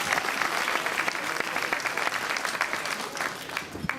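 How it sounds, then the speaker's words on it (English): Gala audience breaking into sustained applause, dense clapping from a large room that stays loud and steady throughout with no talking over it. "Let's give her a round of applause."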